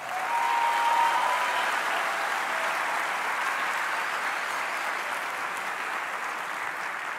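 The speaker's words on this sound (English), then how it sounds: "let's give them a big round of applause." A graduation ceremony crowd gives graduates a big, sustained round of applause, a broad even wash of clapping at moderate level that holds steady from start to finish.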